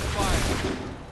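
Musket volley in Assassin's Creed III, a dense fusillade of many muskets firing together in one loud, rolling burst that crackles and booms before slowly fading.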